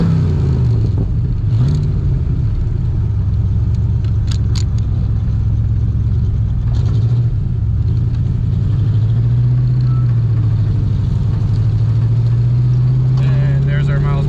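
A 1965 Shelby Cobra Factory Five engine idles steadily with a loud, continuous low rumble and slight wavering in pitch throughout, heard from close by without pause.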